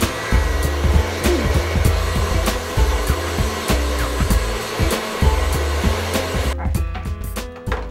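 A hair dryer blows steadily and loudly while hair is blow dried, a continuous whooshing roar with rhythmic fluttering pulses that cuts off abruptly near the end.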